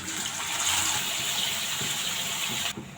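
Chicken pieces frying in hot white oil, salted, on a home stove: a loud, steady, close sizzle throughout that drops away abruptly just before the end.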